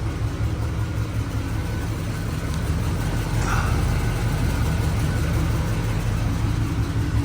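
A 1979 Oldsmobile Cutlass Supreme with 43K original miles, dusty from long storage, idles nearby. Its engine gives a steady, even rumble throughout, and no one speaks over it.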